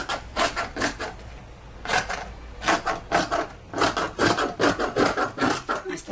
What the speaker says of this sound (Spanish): lo voy a ir cortando para que lo vayan viendo